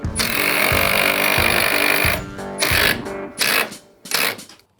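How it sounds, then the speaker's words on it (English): A power tool drives a fastener into a cable deck rail post in one long, loud, steady run of about two seconds, followed by three shorter bursts with pauses, close up and with no talking. "I want to put this fastener in first before we go any further"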